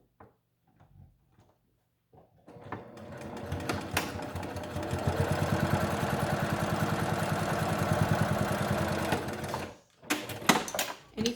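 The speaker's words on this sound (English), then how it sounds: "we're just gonna sew right down the sides to close up our casings without sewing over our ties" A sewing machine stitching down the sides of a fabric face mask to close its casings: a few handling clicks, then a loud, steady mechanical whirring run lasting several seconds, stopping with light clatter afterward, no talking.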